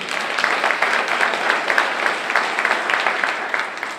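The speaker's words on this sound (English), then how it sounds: "give that a round of applause" Audience at a Merritt College talk in Oakland breaks into sustained applause, dense steady clapping filling the room with no voices over it.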